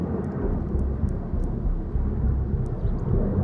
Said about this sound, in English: I don't know if the camera can hear the plane flying